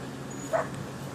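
A loose dog gives one short, fairly faint bark at a moderate distance outdoors during a dog walk. The bark stands alone against quiet background noise.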